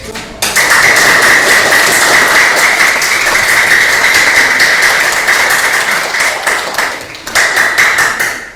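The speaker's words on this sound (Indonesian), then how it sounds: "Tepuk tangan untuk" Classroom audience applauding steadily for several seconds, a dense continuous patter of many hands, loud and near, briefly thinning and then swelling again near the end.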